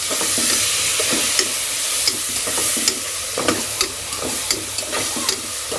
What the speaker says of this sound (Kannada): ಟೊಮೆಟೊ ಹಣ್ಣನ್ನು ಇಲ್ಲಿ ಉಳ್ಳಾಗಡ್ಡಿ ಆಮೇಲೆ ಸ್ವಲ್ಪ ಅಲ್ಲ ಬೆಳ್ಳುಳ್ಳಿ ಪೇಸ್ಟ್ ಹಾಕಿ ಮಿಕ್ಸ್ ಮಾಡೋಣ